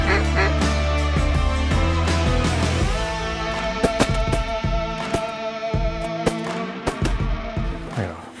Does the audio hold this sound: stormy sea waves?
no